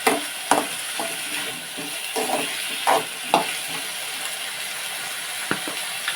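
Chopped brinjal sizzles steadily in a pan over a high gas flame, with a constant frying hiss broken by soft scraping stirs at irregular intervals.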